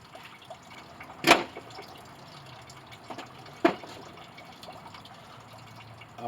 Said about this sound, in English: I got the antifreeze draining out.